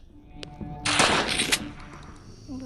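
Gunfire in the horror game Granny Chapter Two, a shotgun shot: one loud, broad blast near the middle, fading over about half a second against quiet game ambience.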